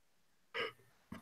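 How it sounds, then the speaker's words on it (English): A short dry burp rises suddenly, loud and close, then trails off, followed about half a second later by a second brief throaty gulp, with no talking. "I had a dry burp."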